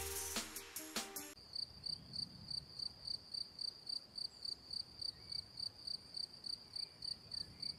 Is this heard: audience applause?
no